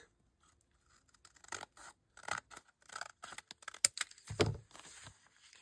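Scissors cut paper for a handmade journal. Several short snips and rasping scrapes come close by and quiet, with no talking.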